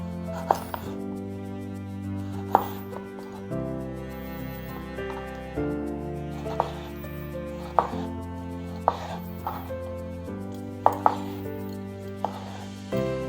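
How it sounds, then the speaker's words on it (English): Garden tomatoes are chopped into chunks on a cutting board, a dozen or so sharp knife strikes at an irregular pace over a low steady background hum. "I want about a cup of tomato that I've cut into chunks"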